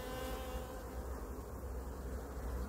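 Honey bees hum steadily around an open hive while a nucleus colony is moved into a full hive. The buzzing is faint and continuous with no voices.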